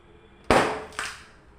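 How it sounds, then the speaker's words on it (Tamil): A balloon fitted on a water bottle bursts with a loud, sharp pop, followed by a second smaller crack a half second later, then a quick fade. "அந்த இடத்துல காற்று போகுதுமான அந்த பலூன் என்ன பண்ணுது, வெடிச்சிடுது"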